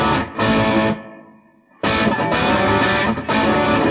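Electric guitar with high gain through an effects pedal, loud and sustained distorted chords in bursts, with a brief drop in level that swells back up to full, dense strumming.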